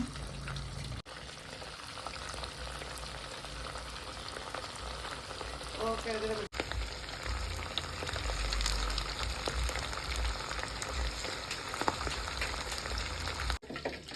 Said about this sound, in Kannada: ಇದು ಎಣ್ಣೆ ಕಾದಿದೆ, ಒಂದೊಂದಾಗಿ ಕಬಾಬ್ ಇಡೋಣ.